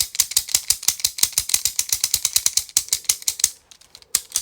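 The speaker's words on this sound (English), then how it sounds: "clicky clacky fidget" Rapid, steady plastic clicking from a fidget toy button, close and loud, repeating at a fast even rhythm before turning sparser and irregular near the end.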